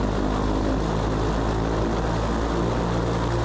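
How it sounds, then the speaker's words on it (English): Boeing B-29 bomber's piston engines running up before takeoff, heard from near the engine as a loud, dense, steady propeller drone with a throbbing low hum that fills the whole stretch. "let's go to the takeoff. Engine run up."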